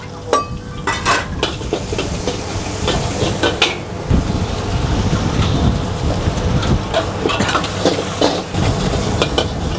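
Egg capcay is stir-fried in a wok at a busy food stall, with a continuous loud sizzle and a hiss like rain, broken by repeated sharp clatters of the utensil against the wok.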